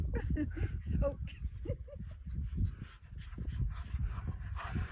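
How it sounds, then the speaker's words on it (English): Dogs playing and barking at a wilderness campsite by the East Fork of the Boulder River in Montana's Absaroka-Beartooth Wilderness in fall, with close, continuous yips, whimpers and barks as people talk alongside. "while we waited, dogs were feeling frisky."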